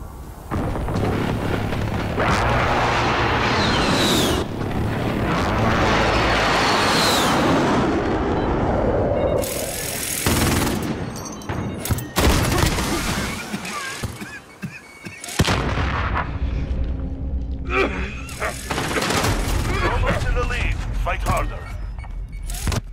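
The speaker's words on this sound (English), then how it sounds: "Enemy precision airstrike inbound." Precision airstrike in Call of Duty: Modern Warfare, with loud booming explosions and gunfire rolling in repeated heavy bursts, broken by brief lulls, under intermittent voices.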